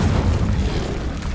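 A single Incendio fire spell from Hogwarts Legacy lands as a loud, deep booming burst with a low rumbling roar that fills the whole short moment up close.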